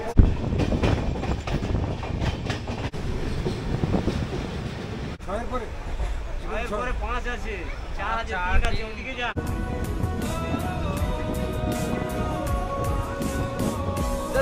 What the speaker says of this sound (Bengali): 13149 কাঞ্চনকন্যা এক্সপ্রেস একমাত্র ট্রেন যেটা কলকাতা থেকে সম্পূর্ণ ডুয়ার্সের জঙ্গল হয়ে কিন্তু নিউ আলিপুরদুয়ার অবধি পৌঁছে যায়।